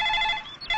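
A telephone ringing with a bright electronic trill, one short burst that breaks off briefly and then starts again, heard close and alone.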